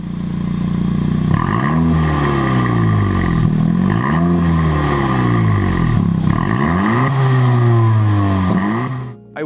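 A Honda Civic Si coupe's center rear exhaust revs up repeatedly, rising and falling in pitch several times in loud, close bursts before cutting off at the end.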